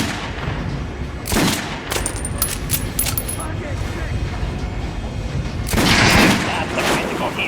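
Gunfire in the video game Metro Last Light: a few sharp shots stand apart, one early and a louder burst near the end, over a low ambient background with faint metallic clinks.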